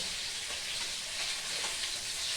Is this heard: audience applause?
no